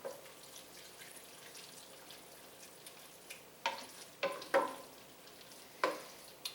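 Wine hitting a very hot pot of flour roux for cream of mushroom soup hisses in sharp, sudden sizzling bursts that quickly fade, against a low background hiss and light stirring.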